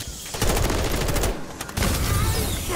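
In Modern Warfare 3, fire pours at a helicopter: sustained loud machine-gun bursts rattle close by, broken by a brief pause before the firing resumes.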